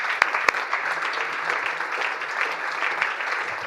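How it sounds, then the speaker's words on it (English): A warm round of audience applause at a Swiss finance conference: steady, moderately loud clapping from a seated crowd, with a few sharper individual claps standing out near the start. "Let's give them a warm round of applause,"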